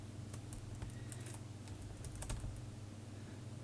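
Keys clatter steadily on a MacBook Pro 15-inch keyboard while each row is tested, a quick, close run of uneven plastic clicks over a constant low hum.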